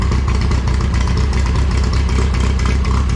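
The engine of a Minneapolis Moline A4T tractor runs after a carburetor adjustment, a loud, steady low chugging idle close to the microphone that continues throughout.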